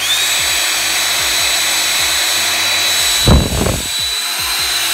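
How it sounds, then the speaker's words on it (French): A LIUMY electric air pump runs continuously while inflating, a loud, steady whining drone close by, broken by a short rushing burst of air partway through. "En termes de bruit, on va maintenant essayer la première pompe."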